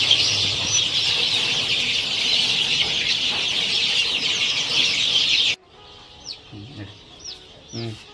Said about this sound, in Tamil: இது வந்து ஒரு 25 டேஸ் சிக்ஸு